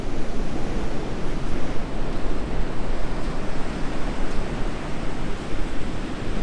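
Ocean surf at Point Culver in Western Australia, a steady loud wash of breaking waves on the beach with a constant rushing roar and some wind, no voices present.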